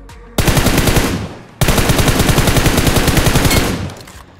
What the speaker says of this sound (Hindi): यहाँ पे नीचे से एक पोरा गोली चला रहा है